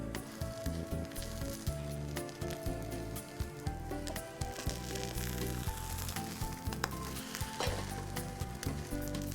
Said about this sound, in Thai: ใส่น้ำมันลงไปอีกนิดหนึ่งนะครับ ไฟร้อนสุดๆนะฮะ